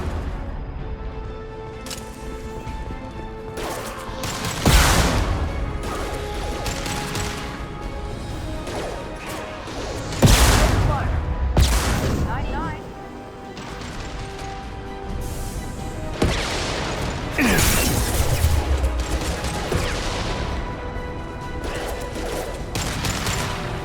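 Concussive shots and gunfire from the video game Mass Effect 2, with several loud, sharp blasts and crashes spaced across a dense, continuous battle soundscape and no talk.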